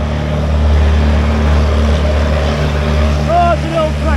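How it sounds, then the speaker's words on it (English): A small old tractor rumbles past on a village street, its low engine drone swelling loud and close, then easing off as it moves by; a voice is heard briefly. "Oh, it's an old tractor."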